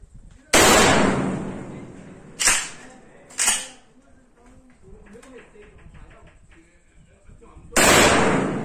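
Three loud 12-gauge shotgun blasts from a CBC Military 3.0 with a 19-inch barrel, fired at a target 15 metres away, the first and last with long booming decays and two sharper shots between, with quiet talk in the gaps.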